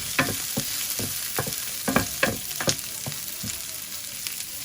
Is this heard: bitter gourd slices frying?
yes